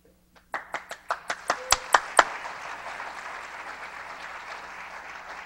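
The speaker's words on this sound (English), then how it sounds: "I'd like to give you a round of applause" Audience applause at an awards ceremony of a Chesapeake watershed forum, opening with a quick run of distinct claps that swell into steady, dense clapping from a crowd, with no talk over it.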